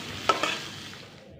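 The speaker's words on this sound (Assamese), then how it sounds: "পিঁয়াজখিনি আমি ৰঙচুৱা হোৱালৈকে ভাজিব লাগিব" Finely chopped onions fry in a pan, with two quick stirring scrapes near the start followed by a soft, fading sizzle.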